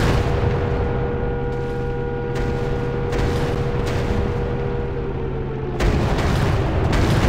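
Booming explosions and heavy gunfire from a WW1 aerial combat game, Warplanes WW1 Sky Aces, as a bridge flak emplacement is destroyed, a dense continuous rumble with low thuds and a steady engine drone throughout.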